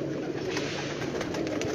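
A flock of pigeons, part of a large breeding loft of about two to two and a half thousand birds in Sialkot, coos continuously up close with a steady layered murmur of calls throughout.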